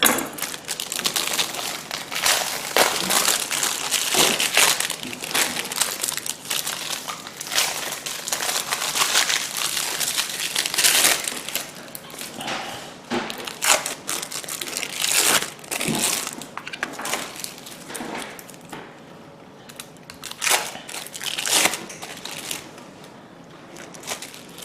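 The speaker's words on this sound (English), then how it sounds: "I'm just going to have to unwrap the singles and chop them into little pieces." Plastic wrapping being peeled off American cheese singles: dense, close crinkling and crackling that runs almost without a break, with sharper rustles spread throughout.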